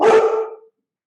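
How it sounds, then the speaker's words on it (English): A dog gives one loud, close bark that fades out quickly, heard alone without speech. "dog was barking"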